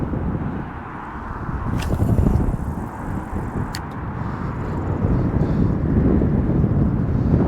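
Strong gusty wind buffets the microphone outdoors during a bass fishing trip with patchinko lures, a dense continuous low roar that swells and eases throughout, with no clear speech.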